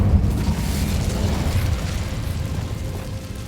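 Incendio fire spell cast in Hogwarts Legacy, a deep, rumbling whoosh of flame that bursts at the start and fades over a few seconds.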